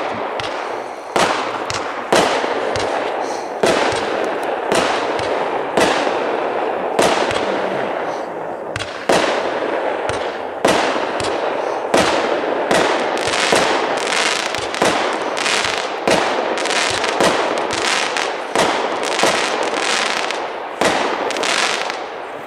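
A Nightliner 24-shot firework battery fires outdoors, loud booming shots in a steady rapid rhythm one after another for over twenty seconds, each with a crackling tail, without talk.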